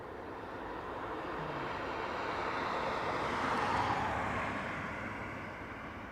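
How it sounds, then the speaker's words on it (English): American Airlines Boeing 777 landing overweight at Dublin Airport as a diversion, a broad jet roar that swells gradually to a peak and then eases off as it passes at moderate distance. "AA 777 overweight landing, possibly as it's a diversion"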